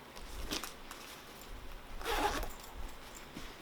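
A zipper on a small flap compartment of a bag is pulled open in two short rasping strokes, close and soft, with no voices.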